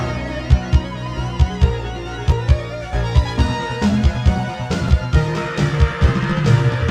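Later section of the Gex video game soundtrack: a busy rhythmic track with punchy low drum hits on a steady beat, bass and layered synth melody, played loud and continuous with no talking.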